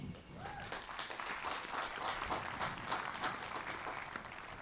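A commencement audience applauds a nursing faculty award recipient, a dense, steady wash of many hands clapping in a large hall, holding at an even level throughout with faint voices mixed in.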